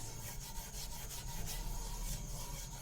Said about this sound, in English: First we will apply some oil using the fiber of the coconut.